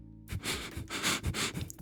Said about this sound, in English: one of the yokai sniffs my wounded hand, completely ignoring how uncomfortable that makes me